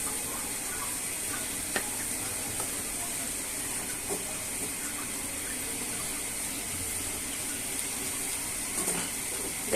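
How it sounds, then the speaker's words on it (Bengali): Chopped onion frying lightly in a pan, added to a coriander leaf mash as it cooks, gives a steady, even sizzle and hiss that runs throughout with a few faint clinks from the pan. "যাতে পেঁয়াজটা হালকা ভাজা হয়ে যায়।"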